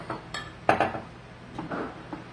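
A spoon clinks and scrapes against a dish while chicken barbacoa is mixed, giving a few sharp metallic taps and clatters with quieter stirring between them.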